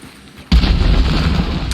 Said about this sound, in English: And watch out for that secondary explosion